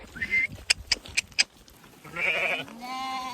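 Sheep on a steep hill in Mongolia bleat in a few short, wavering calls near and far, with sharp clicks and some scuffling in between.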